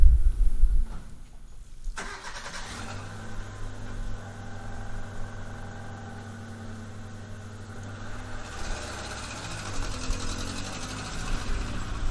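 A 1999 Hyundai Accent car engine cranks and catches at close range, then settles into a steady low idle that carries on alone to the end.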